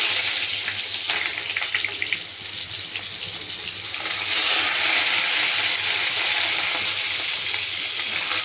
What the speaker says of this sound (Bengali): আমি এবার তেলটা দিয়ে পটলটাকে ভেজে নেব।